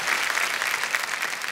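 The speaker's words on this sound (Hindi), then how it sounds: "हर बार घूमते हैं ताली बज जाती है सर।" A studio audience on the Indian quiz show Kaun Banega Crorepati claps steadily, loud and close, a dense continuous wash of applause with no voices standing out.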